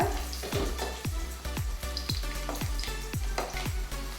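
Bitter gourd sautéing in a pan sizzles continuously under a regular series of stirring strokes, roughly two per second, close and moderately loud, with no talking.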